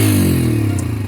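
A Bajaj Freedom 125 CNG motorcycle engine runs close by, a brief, steady low idle throb with a faint mechanical clatter.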